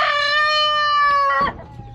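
A Rhode Island Red rooster crows loudly and close by, one long drawn-out call that breaks off abruptly near the end, followed by quieter farmyard background.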